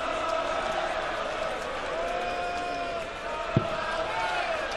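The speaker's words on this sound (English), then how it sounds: "A few chants going up from the crowd, getting into the swing of things." Darts crowd at a World Series of Darts match, a steady wash of voices with chanting swelling from the arena, continuous and fairly loud, with one brief thump near the end.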